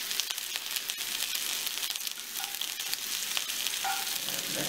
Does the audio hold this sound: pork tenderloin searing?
yes